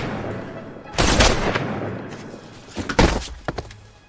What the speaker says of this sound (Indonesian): Cheol-ryung menembak Ki-seong hingga tewas